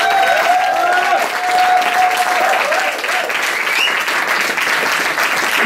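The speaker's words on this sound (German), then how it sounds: "Applaus für Christian Günther." Loud, sustained applause from an event audience as Christian Günther is called onto the stage, dense clapping continuing throughout with faint cheering or tones above it early on.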